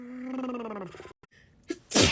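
Someone caught in an allergy sneezing fit draws a rising, voiced breath, pauses in silence, then lets out a sharp, loud sneeze close to the microphone.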